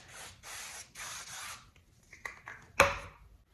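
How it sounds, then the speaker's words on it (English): A few short hissing bursts of cooking spray onto a baking sheet, then quieter scraping and a sharp metallic clatter near the end. "I'm going to take some cooking spray and I'm going to spray my baking sheet"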